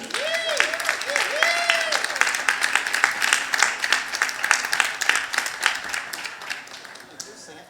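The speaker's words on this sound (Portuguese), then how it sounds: "Gostaria que vocês recebessem com uma salva de palmas a fundadora da iniciativa Bom Viver Reformas Populares, Gabriela Araújo." An audience at a climate festival panel applauds to welcome a panelist, brisk scattered clapping that builds and then tapers away over several seconds, with a voice heard briefly at the start.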